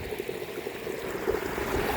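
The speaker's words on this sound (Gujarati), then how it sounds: "જો આ પાણીનો ઘોરિયો ચાલુ છે" Water runs steadily along a field irrigation channel past a cloth sack tied across it to stop erosion, carrying fresh cow dung into the irrigation flow; a soft, continuous trickling rush, fairly quiet and close, with no talk.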